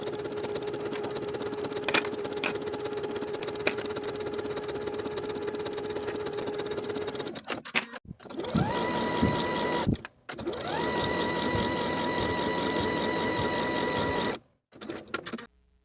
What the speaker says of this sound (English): We'll sew these seams with a 3/8 inch seam allowance